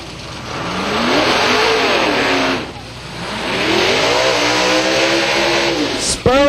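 Drag racing cars, a Pontiac Trans Am and a Mustang, roar off the line at Silver Dollar Raceway. Loud engines rev and climb in pitch in two long pulls, with a brief dip between them and a sharp cut at the end.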